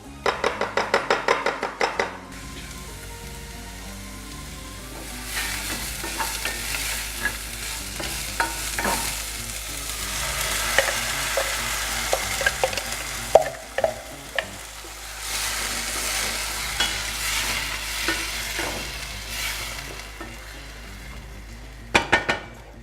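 Onions and tomato cook in a frying pan for shepherd's pie, a steady close sizzle with repeated stirring scrapes and light clinks of utensil against pan.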